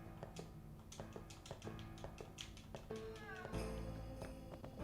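A cat meows in the video game Final Fantasy X, set against steady, busy game music that continues throughout.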